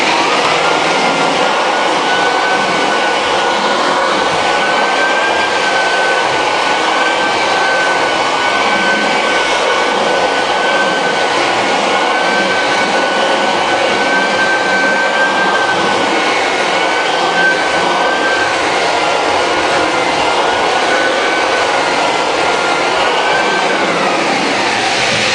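A power sander runs continuously over subfloor seams during prep for underlayment and vinyl plank flooring, a loud, steady whirring whine with a sustained high tone that holds with only slight wavering.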